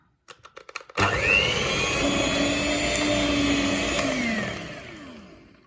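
After a few taps, an electric mixer whips custard cream for a cake, whirring at a steady close pitch for several seconds and then slowing as it switches off, with no talk.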